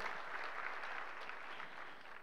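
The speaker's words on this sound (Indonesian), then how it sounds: "Yang mau beri tepuk tangan yuk buat Tuhan kita Yesus Kristus." A church congregation claps during a sermon, a faint, distant patter of many hands that rises and falls gently over a couple of seconds.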